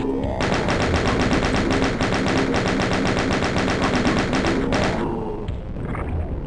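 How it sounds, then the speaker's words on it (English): Doom II chaingun firing in rapid steady bursts, a dense rattling stream of close, loud shots lasting several seconds before stopping abruptly, followed by a lower lingering rumble; no speech. "So definitely try to kill them from this side. With rockets or chain gunner."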